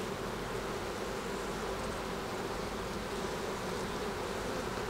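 Honeybees buzz densely and continuously over brood frames being capped at an apiary in Quebec, a close, steady drone filling the whole stretch without talk.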